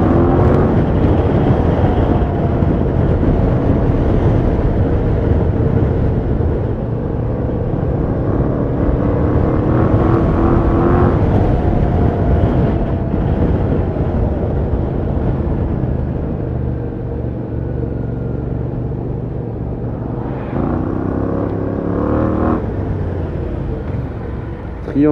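A motorcycle riding past on the road, heard as a loud, continuous engine drone and rumble that rises and falls, with the passing vehicle swelling briefly near the end.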